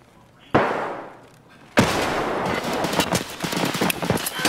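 Gunfire in the shooter game Escape from Tarkov during a firefight, with a sharp single shot decaying into echo, then a loud burst followed by rapid close shots and crackling reports.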